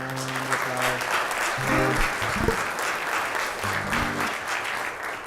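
A concert audience gives Tim a round of applause, a sustained dense clapping throughout, with a low tonal hum and brief pitched sounds from a voice or instrument intermittently beneath it.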